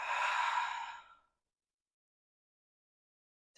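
A single deep, breathy exhale during a slow hatha yoga pose, close and fairly loud for about a second, fading into silence.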